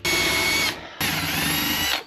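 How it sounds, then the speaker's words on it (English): A power drill boring an 11mm hole into the air tank mount of a Suzuki Carry build, two loud close bursts of whirring with a brief pause between. "So we've got to drill an 11mm hole in here."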